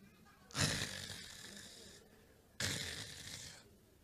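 A voice imitates the loud snoring of a sleeping husband: two long rasping snore breaths, each about one and a half seconds, separated by a quiet pause.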